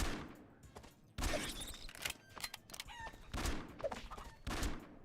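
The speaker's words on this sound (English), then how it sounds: "we'll keep killing these chickens" Chickens cluck in the video game Eternal Return while a player hunts them, the short bird calls mixed with rapid bursts of gunfire and other game sounds.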